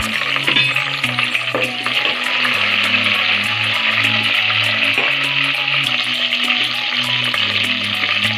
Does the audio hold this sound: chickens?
no